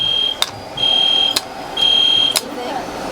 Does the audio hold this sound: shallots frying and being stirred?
no